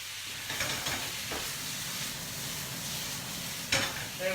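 Coriander stalks singe in a hot pan, giving a steady, close sizzle and hiss with faint stirring scrapes and a brief sharper crackle near the end.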